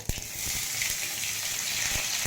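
Onions dropped into hot oil with cumin and mustard seeds for a karadi soppu palya, a steady hiss of frying with a few sharp clicks and taps at the start and end.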